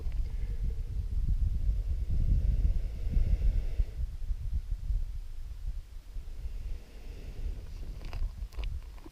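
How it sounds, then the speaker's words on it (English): Desert wind gusting against the microphone outdoors, a loud low rumble that swells and buffets for the first several seconds, then eases to a softer steady roar with a few faint scratchy sounds near the end. "Competing with the wind here."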